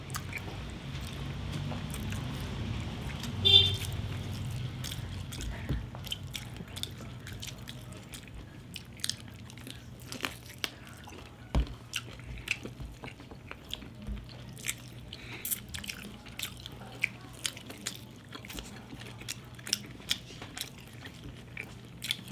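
Someone eating a silog meal at a Filipino mukbang, with steady soft chewing, biting and moist squishy mouth sounds repeating close up over quiet background noise, no talking.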